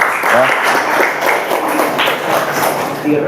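A group of students applauding group 2 in a classroom, a dense, steady patter of many hands clapping close by, with voices mixed in.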